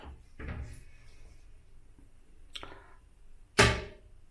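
In a small hotel bathroom, a toilet lid is lifted, giving a few light plastic clicks and knocks, with one sharper clack near the end against quiet room tone.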